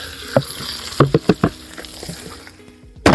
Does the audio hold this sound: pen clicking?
no